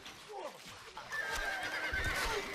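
Horses neigh and whinny among mounted archers in the Stronghold Crusader strategy game, two shrill calls over a busy battle din of hoof and clash noise, with a voice talking over them.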